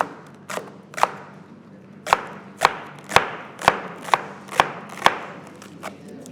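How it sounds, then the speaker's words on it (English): Spring onions being chopped on a board make about a dozen sharp knife thuds in an uneven, unhurried rhythm, close and clear against a quiet background. "And your spring onions, you chop them up too."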